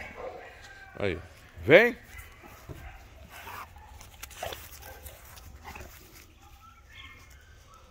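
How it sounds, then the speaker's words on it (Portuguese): A female dog moves about nearby and gives a couple of short, sharp barks and yelps early on, followed by quieter rustling while someone talks throughout. "Olha lá, tá aí, galera. A cadela se movimentando."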